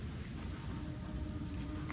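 Steady, soft rain patters without a break, a faint continuous hiss with a low rumble beneath it and no voices.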